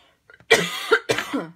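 Several harsh coughs in quick succession, close and loud, after a few faint breaths.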